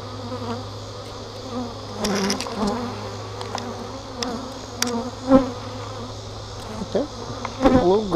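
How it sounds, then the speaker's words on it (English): Honeybees buzzing around an open training hive during an inspection, a steady close droning hum with individual bees zipping past the microphone now and then. "So we need bees back down inside the box."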